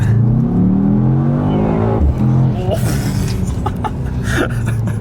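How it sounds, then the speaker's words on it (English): A Mercedes E63s with a V8 bi-turbo and 4MATIC accelerates hard, its loud engine note climbing steadily through the revs, dropping at a gear change, then surging again as a voice speaks over it. "it's equipped with a V8 bi-turbo with 4MATIC, which really grips when you press the accelerator"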